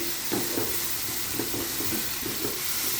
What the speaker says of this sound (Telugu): ఇదైతే రొయ్యలు బాగా ఫ్రై అవుతాయండి